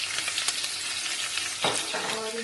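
Two medium onions fry in oil for a beef or mutton pulao, browning toward dark golden. A dense, even sizzle carries stirring clatter, with one sharper scrape near the end and no speech.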